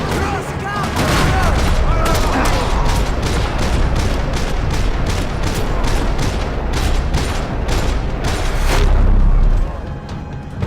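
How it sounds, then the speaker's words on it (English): Loud, rapid gunfire fills a parking lot in the Max Payne video game, with dense bursts of shots and booming reports that hammer on almost without pause for the whole stretch. "Another parking lot rattling with gunfire."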